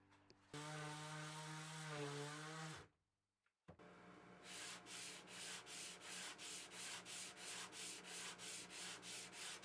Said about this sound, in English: I spent about an hour with this sanding block and some 80 grit sandpaper to flatten it even more